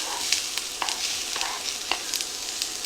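Chunks of vegetables and onions sizzle steadily in a hot pan, with a bright continuous frying hiss and a few soft clicks of stirring, heard close and without talk.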